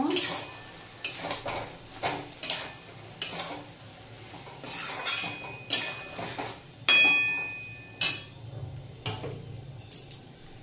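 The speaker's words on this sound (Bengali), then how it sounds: "ভালোভাবে মিশিয়ে নেব।" A spoon stirs poppy seed paste into runner beans and potatoes in a pan, with intermittent scraping strokes and clinks against the metal over a soft sizzle, each stir a short separate burst.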